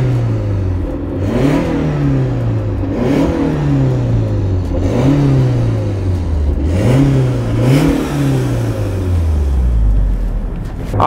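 A 1995 Fiat Barchetta roadster's engine revs repeatedly during a test drive, climbing and dropping through about five gear pulls in a rhythmic cycle, loud and close with wind noise and no talk.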